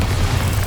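Bombarda spell blast in Hogwarts Legacy, a loud, dense booming burst with heavy low rumble sustained through the whole moment.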